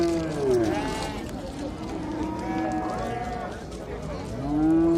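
Cattle low and moo repeatedly at a busy livestock market, several drawn-out calls rising and falling over a constant hubbub of crowd chatter, with people talking throughout.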